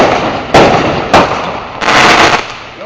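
Fireworks go off close by in three loud bursts, two sharp bangs followed by a longer crackling blast, over a steady background rush.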